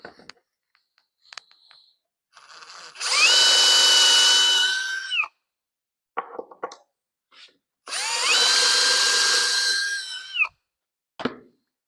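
An electric drill, a 280 (0.28) bit, boring into wood for a toy box: two loud whining bursts of about two seconds each, separated by quiet handling clicks and knocks.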